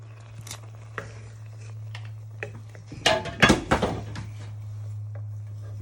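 A spoon scrapes and clinks around a pan of chicken katsu curry sauce, with quiet taps at first, then a cluster of louder stirring scrapes midway, all over a steady low kitchen hum.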